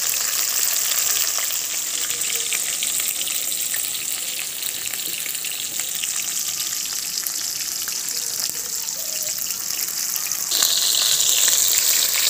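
Bhetki fish pieces fry in a generous amount of hot oil, a continuous close sizzle and bubbling crackle that swells slightly louder near the end.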